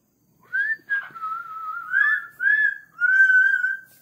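A pet parrot whistles a tuneful song on its own, a string of clear sustained notes and rising phrases that run for about four seconds, moderately loud and close.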